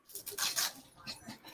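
A puppy whimpers and pants in short, soft, uneven bursts, close but quiet, with faint noise in the background.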